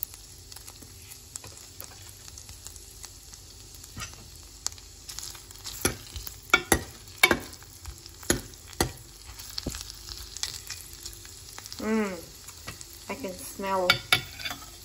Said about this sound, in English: I'm adding the garlic pieces now.